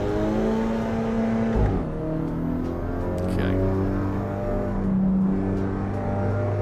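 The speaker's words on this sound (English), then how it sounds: "let's see how a road-going front-wheel drive car feels" Front-wheel drive road car engine in the Assetto Corsa Evo racing game, a steady droning hum with a brief rev dip, running continuously at moderate level without talk.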